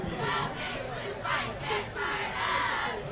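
Large outdoor crowd roaring and shouting in the stands at a high school football game on a cool night, rising in loud swells over a steady wash of noise.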